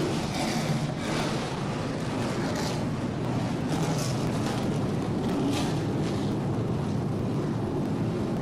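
Trans Am Series TA2 race cars firing up their engines together on the grid at Sebring, a dense, steady roar of many engines under wind noise, loud and continuous throughout.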